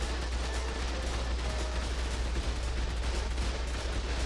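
Turrets in the survival game ARK keep up dense, steady shooting under a low rumble. The fire is even and moderately loud throughout, with no voices.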